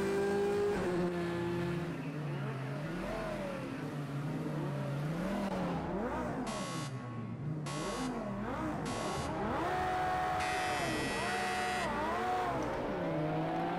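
A 2004 Porsche Carrera GT laps an English circuit in a racing video game, its engine revving up and down through repeated gear changes, loud and continuous, with brief tire squeal.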